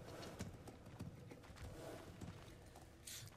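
Horse hooves clip-clop in a video game, a quick uneven run of light thuds at a moderate distance over soft background ambience, with no voices.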